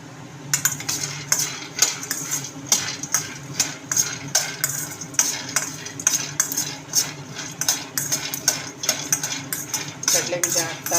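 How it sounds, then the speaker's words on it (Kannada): Peanuts poured into a bowl in a rapid, uneven clatter of small hard pieces striking the bowl, close and fairly loud, with faint background voices. "ಕಡಲೆ ಬೀಜ ಹಾಕ್ತಾ ಇದೆ ಈಗ"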